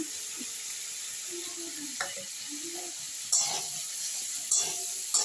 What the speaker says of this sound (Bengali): এইভাবে নেড়ে নেব নেড়ে একটু ভেজে নেব